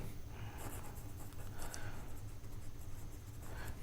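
A pen scratches out an accounting entry by hand on paper, in short soft strokes and bursts that come close and faint over a low background hum.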